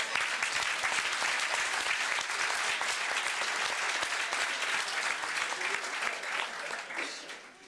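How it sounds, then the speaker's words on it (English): A crowd at an MLK tribute applauds itself in a dense, steady wash of clapping that holds evenly throughout and tapers slightly at the end, with no voices over it. "Please give yourselves another round of applause."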